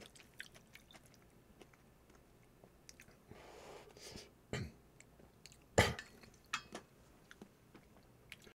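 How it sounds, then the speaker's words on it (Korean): A single close, short cough breaks through quiet room noise, with faint chewing and small clicks around it. "기침했네요"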